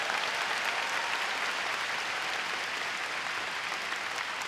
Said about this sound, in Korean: 우리 하나님께 감사의 박수 올려 돌리십시오